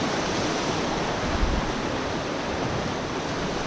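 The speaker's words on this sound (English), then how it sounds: "So this is another river flowing into the Green River Lakes, coming from the northern area." A river in Wyoming's Wind River Range flows into Green River Lakes, giving a steady, broad rush of running water that stays even and continuous throughout with no voices.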